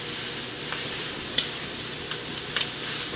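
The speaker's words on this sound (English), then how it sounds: "I flip my meat and I pat it down" Meat frying in a pan for a home-cooked breakfast, a steady close hiss of sizzle running throughout with a few small sharp ticks and pops, no one talking.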